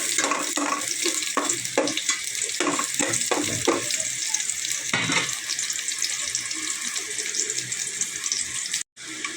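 Garlic sautés in a pan for ginisang upo, a Filipino bottle gourd dish. A steady hiss and sizzle carries a few sharp clatters of stirring near the start, close up and fairly loud, then a brief cut near the end.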